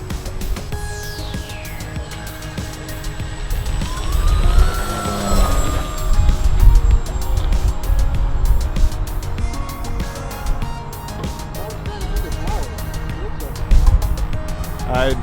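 An E-flite P-38 electric RC airplane taking off and flying, its motor whine rising and sweeping in pitch and then fading into the distance, with people chattering nearby.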